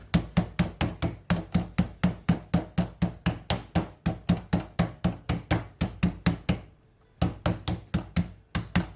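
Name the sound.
meat mallet pounding chicken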